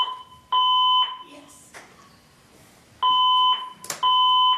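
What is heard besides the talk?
fire alarm beeping during a meeting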